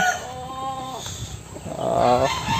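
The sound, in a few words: gamecock rooster crowing and clucking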